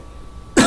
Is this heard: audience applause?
no